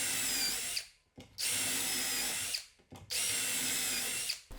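A power drill bores holes through a 2x6 wooden board held in a jig, with three loud whirring bursts separated by short pauses as the bit spins up and winds down.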